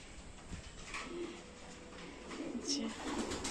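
Pigeons on a rooftop coo softly at a distance, low repeated calls with a brief higher chirp, faint against a quiet outdoor background.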